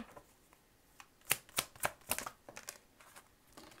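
Tarot cards being drawn and laid down one after another in a French reading, a series of crisp, close slaps and flicks of card stock on a table, irregularly spaced, quiet, with no talking.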